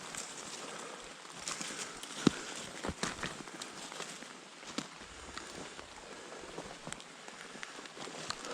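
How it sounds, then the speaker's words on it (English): Heavy raindrops turning to snow patter steadily in woods as a nor'easter moves in, with scattered sharper taps and footsteps crunching close by under the soft, even hiss. "These big raindrops are starting to turn to heavy snowflakes."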